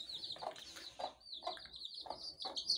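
Hens cluck on a poultry farm where broody hens sit on eggs to hatch chicks: about five soft, evenly spaced clucks with a thin, continuous high peeping running over them, close by and with no talking.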